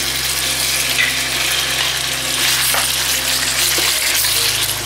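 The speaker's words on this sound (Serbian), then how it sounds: "Meso pržimo sa svih strana dok ne uvati lepu koricu." Meat frying in hot oil in a deep pan or wok, a dense, steady sizzle with a few crackles and a low continuous hum beneath, close and loud.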